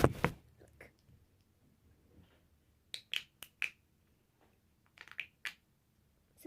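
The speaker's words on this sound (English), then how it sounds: "I forgot the last loud fidget. It's called a pop tube." A homemade pop tube fidget toy gives sharp, quick snapping pops, heard in scattered clusters of two or three close, crisp clicks with quiet gaps between them.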